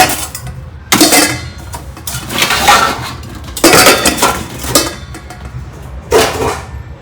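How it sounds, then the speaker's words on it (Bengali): Steel and brass basins and utensils clink and clatter loudly nearby in irregular bursts of metallic rattling and ringing, several separate handling episodes with brief pauses between. "এখানে প্রচুর গামলা রয়েছে স্টিলের পিতলের সব কিছু মিশিয়ে"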